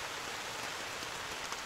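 Rain comes down steadily on a camping tarp strung on a ridge line in New Zealand bush, a dense, even hiss of drops with no pause or voices.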